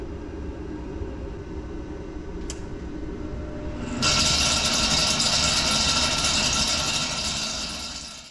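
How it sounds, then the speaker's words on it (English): Garage heater blower motor kicking on, a steady hum that swells into a louder, broad whooshing rush of air and keeps running at a constant level. "this blower motor is going to kick on"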